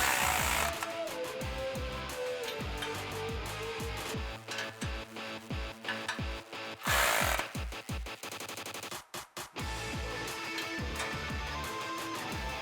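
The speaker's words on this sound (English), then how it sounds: "for your flange, it's going to be a 13mm wrench and a 14mm socket. Tighten that down as well." Rapid mechanical rattling and clicking while exhaust flange bolts on a 2011-2014 Ford F150 5.0L dual exhaust system are tightened with a wrench and socket, dense repeated impacts that stop and restart, close up, no voices.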